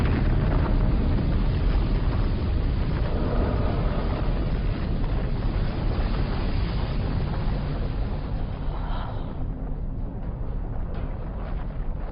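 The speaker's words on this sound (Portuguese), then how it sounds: "Os dois mundos são aniquilados, criando a poeira e os detritos que vemos ao redor da estrela HD 23514" A cinematic effect for two planets colliding and annihilating each other near the star HD 23514 plays as a loud, dense, continuous rumbling roar. It thins slightly toward the end, with no voices.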